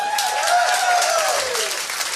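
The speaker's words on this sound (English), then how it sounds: "Round of applause for Jesse." A live podcast audience claps for a guest, a short, dense burst of applause heard over a fading tone, with no talk over it.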